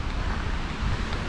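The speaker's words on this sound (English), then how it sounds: "Whoa, except this wind might not be good." Wind gusts buffet the microphone on a forested Appalachian Trail section in Shenandoah National Park, a steady loud rumbling roar with no break across the short stretch.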